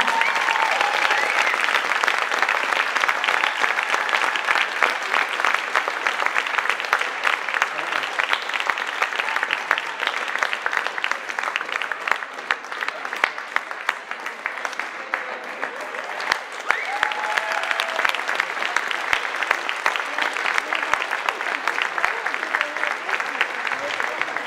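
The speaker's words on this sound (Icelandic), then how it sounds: "Gefum þeim gott klapp." Sustained audience applause at an Icelandic group gymnastics championship, dense steady clapping and crowd noise filling a large hall, loud and continuous throughout.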